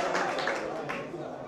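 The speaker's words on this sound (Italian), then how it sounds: "applausi del pubblico" Crowd applause at an amateur football match between Vis Sezze and Arce, a steady spread of clapping heard under a commentator's continuous talk.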